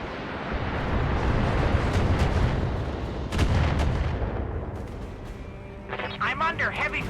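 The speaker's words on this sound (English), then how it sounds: "I'm under heavy fire" Heavy gunfire and booming blasts in a video game roll out in two loud, rumbling bursts, followed by quieter rapid thuds and a voice speaking near the end.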